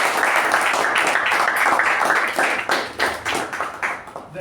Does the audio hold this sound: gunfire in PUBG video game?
no